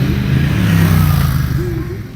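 A Polaris Scrambler 850 XP ATV with a stainless steel exhaust revs loudly and close up, its engine holding a steady, rumbling roar that swells and eases slightly over two seconds.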